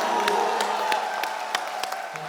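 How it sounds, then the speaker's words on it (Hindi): A studio audience on an Indian TV comedy show claps to welcome visiting singers, a steady burst of scattered hand claps with a few sharper individual claps standing out. "जोरदार तालियां हो जाए"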